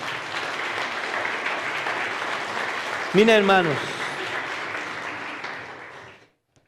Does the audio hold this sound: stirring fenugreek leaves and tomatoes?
no